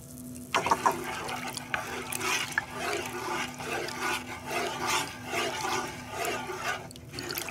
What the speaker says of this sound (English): So now I'm going to put 2 cups of cold water in here with this.